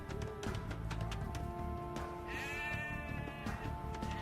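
Sheep bleat in the strategy game Age of Empires 2, a short wavering cry rising over a dense bed of battle effects and music, close and clear.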